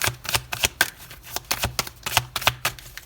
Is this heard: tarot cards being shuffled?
yes